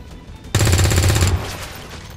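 An XCOM 2 soldier's rifle fires a single loud, close burst of rapid automatic shots lasting under a second, with a short ringing tail fading afterward.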